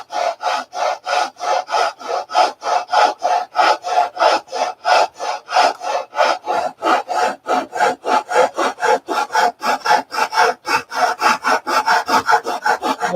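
Steady back-and-forth rasping strokes of hand sanding on a carved wood piece, close and loud, with a quickening even rhythm over about thirteen seconds and no voices.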